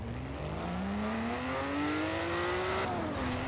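A Ferrari engine in the video game Forza Horizon 4 revs up steadily with a rising drone, briefly dips at a shift, then climbs again. The sound is continuous, fairly close and without talk.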